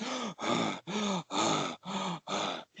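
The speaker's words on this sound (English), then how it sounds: "practicing panting, or the kind of breathing that you would have when you were out of breath" Six quick, shallow breaths in a steady rhythm, each a short voiced huff with brief gaps, close to the listener.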